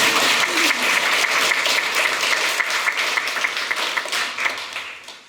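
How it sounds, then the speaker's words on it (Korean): A lecture audience at a Catholic spirituality school claps together in a sustained round of applause, loud and even at first, then gradually thinning out. "두 분을 위해서 우리 박수 좀."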